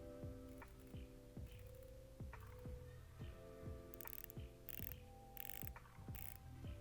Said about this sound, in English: Yep, standard Seiko bezel action, crisp, clean, almost no backplay.